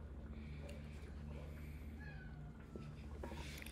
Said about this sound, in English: Meow kitty.